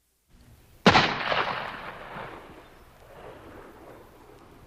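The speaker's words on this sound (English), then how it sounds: "Carter Drews was calm as he pulled the trigger of his gun." A single sharp gunshot from a Civil War-era gun cracks loudly out of near silence, then rolls away in a long echoing decay, with a faint low rumble just before the shot.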